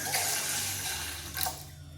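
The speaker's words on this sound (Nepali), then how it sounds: "अब पानी थाप्ने" Water pouring steadily into a pot to make milk tea, a continuous close rushing splash with a slight surge near the end and no talking.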